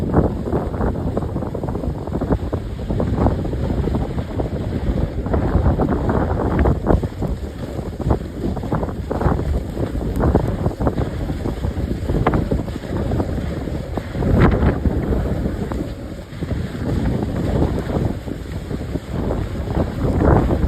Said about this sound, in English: Brave the wind.